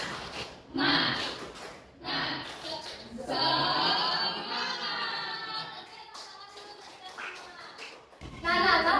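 Primary school children in a classroom perform a rhythmic clapping chant, quick bursts of hand claps alternating with shouted group voices, loud and close.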